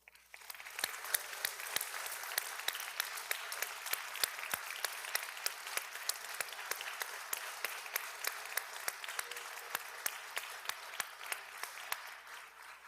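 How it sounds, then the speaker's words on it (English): Applause in a state legislative chamber at the Capitol during a House floor session: fairly quiet, sparse clapping from a modest group, with sharp individual claps scattered evenly over a long stretch. "please join me in giving a round of applause"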